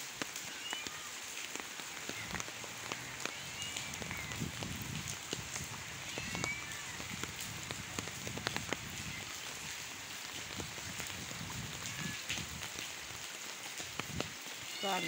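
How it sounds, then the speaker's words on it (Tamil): Heavy rain pours steadily over a village home surrounded by muddy, waterlogged ground, a dense continuous patter with scattered louder drops and faint background voices now and then. "கடந்த 2 நாளாக மழை தான் பாருங்கள்."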